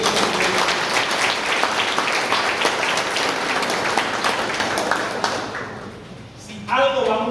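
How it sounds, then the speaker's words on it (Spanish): Crowd applause at a presidential campaign rally in Paraguay, loud and sustained for several seconds before fading, with a voice starting at the end. "ustedes se merecen mi aplauso"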